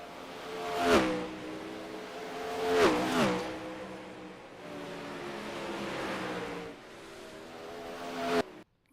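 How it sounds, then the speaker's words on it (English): Dirt sprint cars, 360s, lapping at Port Royal speedway, engines swelling loudly as each car roars past, several distinct pass-bys with high revving whine between them. "Plenty of cars out making laps."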